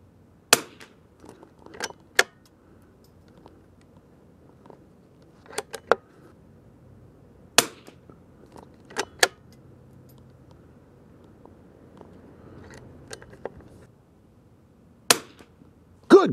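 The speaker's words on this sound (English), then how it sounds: "Last 5-round group from the Winchester 52D" A Winchester 52D target rifle fires a five-round group at 50 yards on an outdoor range, sharp single reports spaced irregularly several seconds apart, with bolt clicks and handling noise in between.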